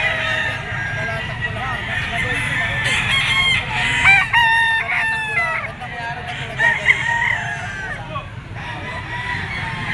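Roosters in a scratch pen crow and cluck in repeated bursts, fairly close, while someone talks over the birds.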